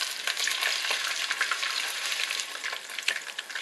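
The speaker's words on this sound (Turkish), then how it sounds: "Şehriyem kavruldu." Vermicelli roasts in a pan with a dense, crackling sizzle and bursts of stirring scrapes, close and fairly loud, with no talking.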